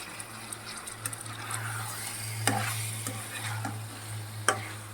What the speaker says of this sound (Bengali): মাছগুলো শুধুমাত্র পেঁয়াজ দিয়ে ভুনা করতেছি